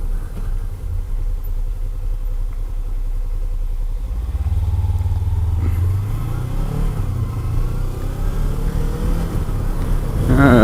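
A motorcycle rides up and down a hilly road with curves in daylight, engine droning steadily and loud up close, its pitch rising and falling as it shifts and climbs, with a revving swell at the end.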